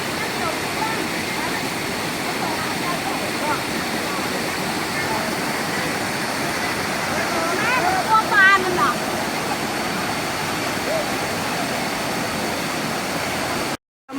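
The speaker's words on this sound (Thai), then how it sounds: "ชมภาพบรรยากาศน้ำตกนะคะ ใกล้ๆนะคะ" Krathing waterfall in Chanthaburi, Thailand, a steady, loud rush of falling water heard close up, continuous throughout with little variation, briefly cut off at the very end.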